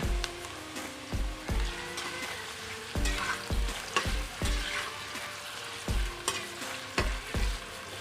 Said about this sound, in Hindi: तो चलते हैं, हम सबसे पहले आलू को फ्राई करते हैं और भिंडी को।